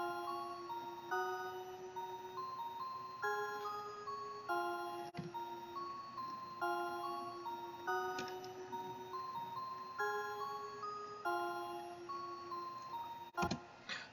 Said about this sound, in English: this is the melody with the pluck that we duplicated.